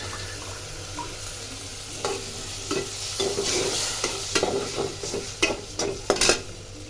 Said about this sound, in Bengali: মাছটা একটু কষাবো ভালো করে,